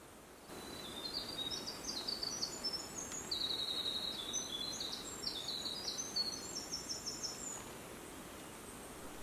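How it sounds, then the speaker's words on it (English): Birds call in a foggy Appalachian mountain forest on the Crawford Path at morning, a series of faint, high chirps and trills scattered over soft, constant background hiss, with no talking. "we started to notice that the birds were starting to wake up and become a lot more active"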